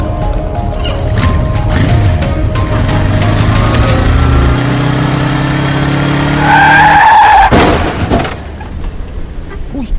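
Within a radio ad, a motorcycle engine revs and its tires screech into a long skid, ending in a sudden loud crash near the end, with no voices over it.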